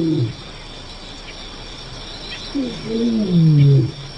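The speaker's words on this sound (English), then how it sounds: "The most chilling sound in all Africa, a lion's roar." An African lion gives deep, thunderous roars at dawn, a short burst at the start and a longer, rising roar toward the end, with faint insect and bird sounds in between.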